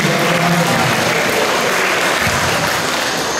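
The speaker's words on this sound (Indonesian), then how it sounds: "Tepuk tangan dulu" Dense, steady applause from a crowd at the opening of a national school library competition visit for SMA 17 Palembang, loud and continuous for the whole stretch.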